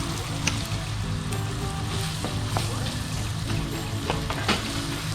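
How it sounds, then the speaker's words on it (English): Sausage meat with its casing removed browns in a frying pan with a steady, close sizzle, and occasional sharp taps and scrapes from breaking up the chunks. "I'm just gonna brown the meat and then put in the veggies."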